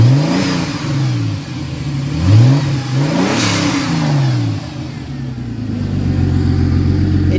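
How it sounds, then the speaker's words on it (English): A boosted Bajabenz car engine revs up and drops back several times in quick succession, then settles into a smooth, steady idle, loud and close. "The car runs, idles, revs very, very smooth."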